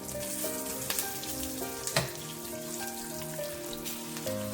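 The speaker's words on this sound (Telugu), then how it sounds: "ఇవి కొంచెం ఫ్రై అయ్యాక లెట్స్ యాడ్ పసుపు ఫాలోడ్ బై సాల్ట్" Mustard-seed tempering for rice sevai pulihora sizzles and crackles steadily in hot oil as turmeric and salt go in, with a few sharper pops and faint stirring clinks, no voices.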